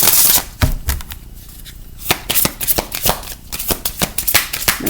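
A deck of tarot cards is shuffled by hand up close in quick riffling bursts and slaps, with irregular clusters of crisp flicks separated by brief pauses and no talking.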